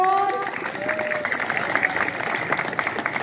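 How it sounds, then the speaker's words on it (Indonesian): Students clap for a poet teacher at a school literacy event, a dense crowd applause filling the room from start to finish, with a voice briefly heard early on. "tepuk tangan dong untuk Pak Ukon"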